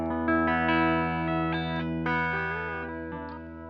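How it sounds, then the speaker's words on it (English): Les Paul-inspired Maybach guitar with Spirit of 59 pickups played straight into a Marshall-style amp with no pedal. Overdriven chords ring with a few bends and slides in a short, loud, sustained phrase. "So this is what the amp sounds like without the pedal."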